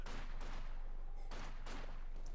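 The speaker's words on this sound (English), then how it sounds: "Troops being blasted there by light machine gun fire" Light machine gun fire in the World War II strategy game Company of Heroes 2, heard as repeated sharp bursts of rapid shots over a steady din of battle, loud and close with no talk.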